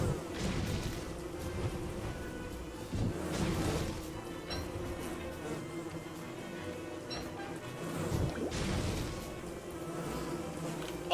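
Killer bees buzz in a steady, dense swarm drone in the game Don't Starve, filling the whole stretch with a constant insect hum. Brief crashing hits punctuate it at a few points.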